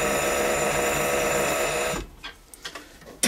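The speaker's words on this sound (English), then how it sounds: "I'm going to skive down the edges of the leather so that it's a bit thinner" A leather skiving machine whirs in a steady, loud, high-pitched mechanical drone while thinning the edges of leather for notebook covers, then stops abruptly, leaving a few soft handling knocks and clicks.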